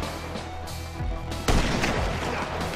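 Sniper rifle shots in Grand Theft Auto V: a couple of booming reports, the loudest about halfway through, over continuous gunfire and battle noise in the game.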